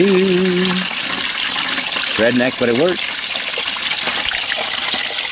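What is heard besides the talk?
rainwater being poured to mix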